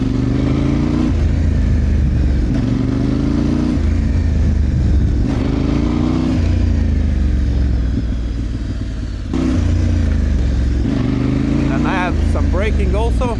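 Motorcycle engine on an adventure bike making small, repeated accelerations, its low engine note rising and falling in short pulses, close and steady, with someone talking over it throughout.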